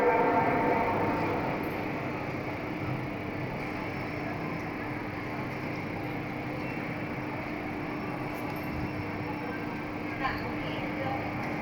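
A constant rumbling drone of a Lao passenger train rolling along the tracks at a large station on the Luang Prabang line, steady and fairly loud, with voices talking over it.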